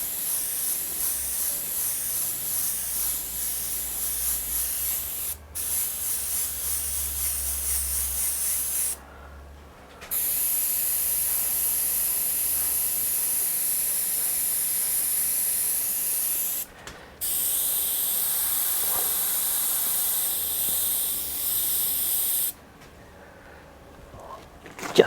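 An airbrush sprays paint in long continuous hissing bursts, broken by a few short pauses and one longer gap near the end, close and steady, with no talking.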